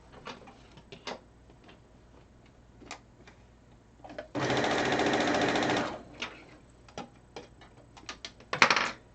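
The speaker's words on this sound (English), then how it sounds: "Next, I'm going to sew these 2 at the same time." A sewing machine stitches two fabric pieces in one steady burst of about a second and a half, loud and close, set among quiet scattered ticks and handling clicks.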